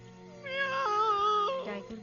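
A cartoon tiger from an animated Delhi Safari film imitates a cat with a drawn-out, tonal meow, a single wavering call rising and falling over a faint background hum.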